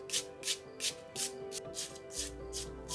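A wire brush scrubbing residue off a bronze sculpture, steady rhythmic back-and-forth rasping strokes about three per second, close and bright, with a faint underlying hum and no speech.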